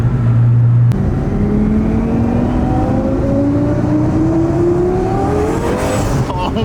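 Twin-turbo Lamborghini rated around 1300 wheel horsepower, revving at partial throttle: a loud, close engine note climbing steadily in pitch for several seconds after a brief idle, ending in a rising whine.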